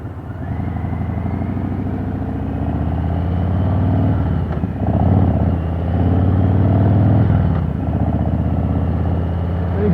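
A motorcycle rolls slowly through a tight turn while its engine runs low and steady at close range, with a faint clatter and slight rises in revs that hold the bike in the friction zone.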